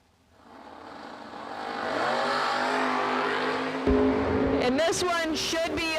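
Drag race cars roar off the line at an ACE Triple 20K event, engine noise building over two seconds into a loud sustained howl, then a sharp shift in pitch with rapid rising whines near the end.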